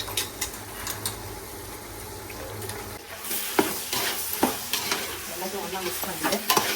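Chicken pieces with softened garlic sizzle and fry in a pan at home for chicken dum biryani, broad hiss with irregular stirring scrapes and clicks growing busier after the first few seconds, no voices.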